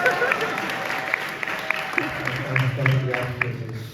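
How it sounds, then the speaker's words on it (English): Steady applause from an audience at a Siyum HoRambam gathering fills the whole span, with many hands clapping evenly and a faint murmur of voices underneath. "Chavav Adar. Crowd goes wild."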